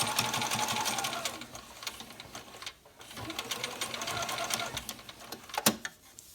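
A sewing machine stitching back over a face mask seam, running in quick rhythmic bursts of needle clatter with a short pause near the middle, close and steady, without talking.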